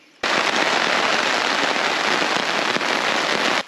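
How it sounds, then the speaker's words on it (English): Steady rain patters on a tent at night along a mountain trail, a dense close hiss that starts abruptly and continues without pause, then cuts off. "It started raining a bit."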